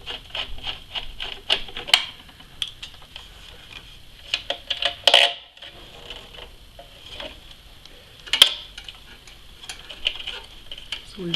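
An 8mm deep socket backs out the ground bolts on a treadmill motor, making quiet, irregular metallic clicks and light taps, with a few sharper knocks standing out.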